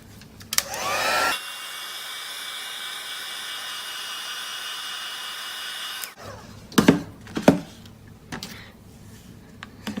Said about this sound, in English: I'm going to hit this with the heat tool first just to dry those two off